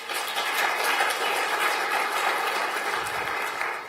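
Audience applause at the Kazerne Design Awards 2025, a steady dense wash of many hands clapping, loud and continuous throughout.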